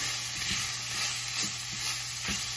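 A spoon stirring a sauce seasoned with cayenne, salt and pepper in a pan, a few soft scraping strokes over a low continuous sizzle, close and fairly quiet.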